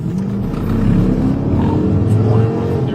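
A car engine roars steadily at close range, revving hard as the vehicle accelerates and speeds off, loud and continuous throughout.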